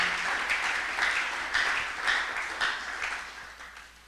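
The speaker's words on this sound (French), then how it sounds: "Tobete likolo na biso maboko." A church congregation claps along during a prophetic worship service, a rhythmic pattern of hand claps about every half second, moderately distant and reverberant, steady and slightly fading, with no voices.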